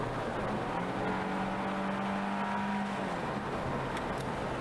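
A Cadillac CTS drives along with a steady engine drone and road noise from inside the car, with a rising engine tone during brief acceleration before it settles back to a smooth cruise.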